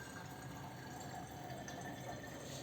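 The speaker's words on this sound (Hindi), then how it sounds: "तो सारा पानी हम छान लेंगे।" Freshly boiled Ayurvedic kadha, an immunity drink for cold and cough, strained through a strainer in a home kitchen, giving a steady, quiet trickle and splash of pouring liquid with no talk.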